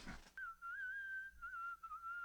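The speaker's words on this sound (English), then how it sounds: "we're whistling" A single steady, clear whistled melody carries a Sámi song at low level, held and gently wavering over a soft backing.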